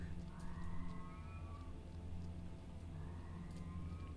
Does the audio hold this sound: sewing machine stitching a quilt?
no